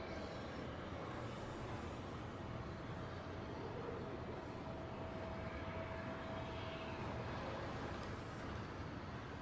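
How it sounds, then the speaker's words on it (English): A United airliner arriving at LAX from Tampa is heard as a faint, distant, broadband roar of jet engines, steady over a wide noisy background with no talk. "Next arrival is United. It's coming in from Tampa."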